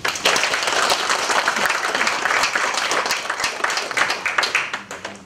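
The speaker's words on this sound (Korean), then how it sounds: "박수 한번 부탁드립니다." Audience at a seminar applauding together, a dense, even wash of hand clapping filling the room from start to finish, loud and close.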